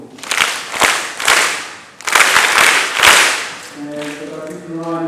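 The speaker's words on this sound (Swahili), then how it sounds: "Pigeni makofi." An audience claps hands in bursts of loud, close applause that swell and fade, followed at the end by a sustained sung or voiced tone.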